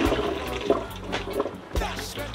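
Tap water runs and splashes into a container in a kitchen while salt mackerel is prepared for a Jamaican breakfast, a continuous rushing gurgle with faint background noise.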